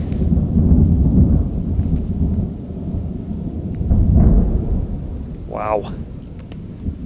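Thunder rolls and rumbles through a thunderstorm outdoors, loud deep booms swelling and fading over steady rain, with a brief higher sound near the end.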